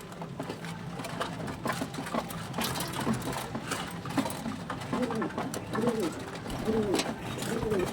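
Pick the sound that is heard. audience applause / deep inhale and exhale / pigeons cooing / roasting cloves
pigeons cooing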